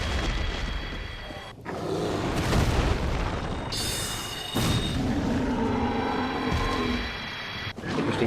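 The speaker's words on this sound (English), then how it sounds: "Gonna get our soul spears out for this." Soul spear spells striking Taurus demons in the Dark Souls video game, heard as a dense, continuous stretch of booming blasts and rumbling impacts, loud and sustained with a few sharp breaks.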